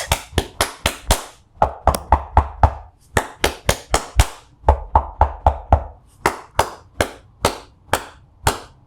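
Sharp knuckle raps on a wooden door come in several quick bursts of three to five knocks, close and loud, with short pauses between groups and no voices.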